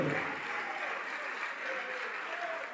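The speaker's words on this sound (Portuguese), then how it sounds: "Vamos aplaudir" Church congregation applauding, a steady wash of clapping at moderate level with faint voices mixed in throughout.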